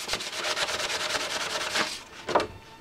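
A primed FZR motorcycle part is hand sanded close up with quick, rhythmic back-and-forth strokes, roughly a dozen scrapes in a row followed by a pause and a couple of heavier rubs.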